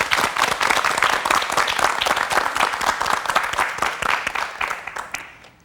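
A lecture audience at a women-and-law program gives a full round of applause welcoming a judge, dense steady clapping that holds loud for several seconds, then thins and fades out.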